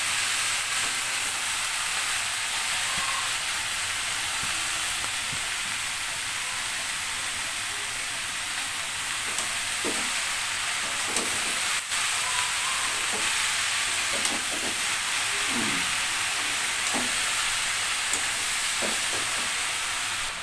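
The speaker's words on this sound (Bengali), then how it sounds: "এখন হচ্ছে ভালো করে কষিয়ে নিব" Green jackfruit fries in a pan with shrimp, spice paste, salt and turmeric, a loud dense sizzle running unbroken for the whole stretch, with scattered stirring scrapes growing more frequent in the second half.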